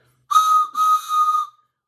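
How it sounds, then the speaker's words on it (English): A toy train whistle blows loud and close, two shrill breathy toots with a short gap between them, then cuts off. "I even have my train whistle"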